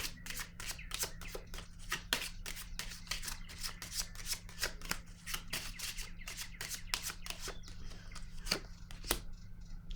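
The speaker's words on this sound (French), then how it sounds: "Je vais déposer une autre carte" Playing cards are handled and laid down in a rapid series of crisp, close flicks and slaps during a tarot-style card reading, steady throughout with no voices.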